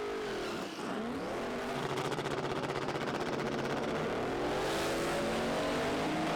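Drag race cars at a car event accelerate hard with a loud, sustained engine roar that rises in pitch as they pull away, a close and continuous revving sound.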